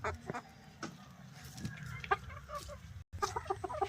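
Hens cluck in short bursts close by, several birds overlapping, with soft farmyard rustling underneath and no talking.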